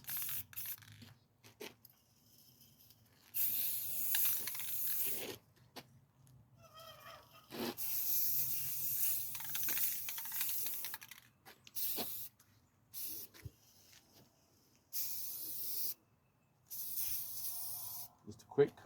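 Semi-gloss black spray paint is applied to Pearl drum parts in repeated bursts of close, sharp hissing, each separated by short quiet pauses.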